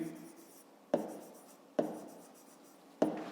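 Handwriting with a pen in a notebook: a faint, scratchy stroke, then three distinct taps or short strokes spaced about a second apart, close and quiet with no talking over them.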